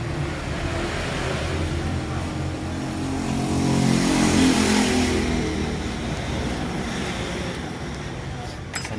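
A Nissan Almera N17 with ECU and CAN bus trouble codes runs at about 2,000 RPM, giving a loud, steady, close engine drone that swells briefly mid-way, with a small clink near the end.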